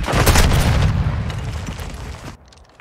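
Loud, dense grenade explosion with sustained rumbling debris and crackle in a Call of Duty: Modern Warfare II firefight, cutting off abruptly near the end; no talking.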